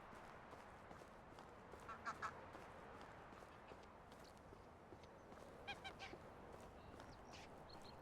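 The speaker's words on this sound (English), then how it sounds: "The geese are laughing at me." Geese honking in the video game Medieval Dynasty, two short bursts of nasal calls over a steady outdoor ambient bed, fairly faint and at a distance.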